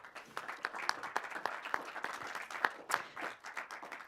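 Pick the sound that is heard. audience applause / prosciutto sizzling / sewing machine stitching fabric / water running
audience applause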